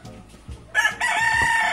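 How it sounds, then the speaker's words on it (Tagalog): A rooster crows loudly and close by, a single drawn-out cock-a-doodle-doo that rises sharply and holds to the end, after a few low, quiet background noises. "Uy, yung manok ko."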